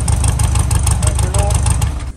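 A kit car engine, left sitting for ten years, runs up close in a loud, rough, chugging idle with a fast, pulsing rhythm that stays steady throughout.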